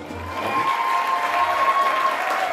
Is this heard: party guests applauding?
yes